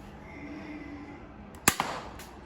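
A single sharp snap of a toy pistol shot with a quick echo-like follow-up, standing out against a quiet room hum.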